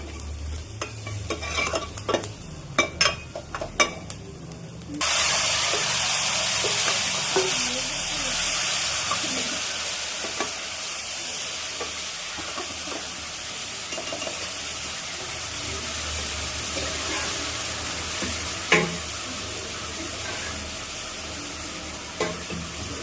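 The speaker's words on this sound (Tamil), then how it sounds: "தனியாக எடுத்துட்டு இந்த கறியை மட்டும் நம்ம வறுக்க போகிறோம்" Mutton pieces sizzle and crackle steadily as they fry, with occasional scrapes of a spoon stirring them around the pan, close and continuous; the frying grows louder and denser after the first few seconds.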